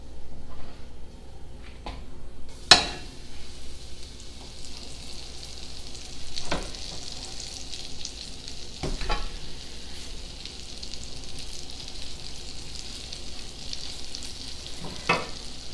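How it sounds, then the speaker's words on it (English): Pork chops searing over medium heat in melted bacon grease in a pan, a continuous close sizzle broken by a few sharp clicks and knocks of utensils, with no talking. "And after we melt that down, we're going to add the pork chops."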